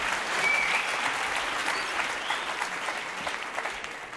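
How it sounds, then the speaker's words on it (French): Studio audience at a French television variety show gives a full, even round of applause that carries on throughout, loud and close, tapering slightly at the end. "Quelques applaudissements pour Maître Faram, qui nous a montré ce pouvoir exceptionnel."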